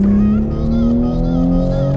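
Toyota GR Supra on Michelin tyres entering a corner at speed, its engine droning steadily with rising pitch, loud and close with no talk.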